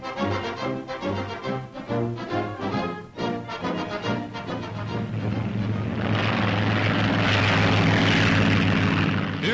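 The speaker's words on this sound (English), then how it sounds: "A rope is rigged for the oncoming plane to catch." A propeller airplane swoops low to snatch a glider's tow rope during a 1942 Army Signal Corps glider experiment. Its engine swells into a loud, steady roar across the second half, after a stretch of rhythmic tonal sound.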